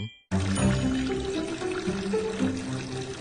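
Water pouring down a drain into an underground pipe, a steady gushing, gurgling flow that starts abruptly after a short silence and continues close and strong.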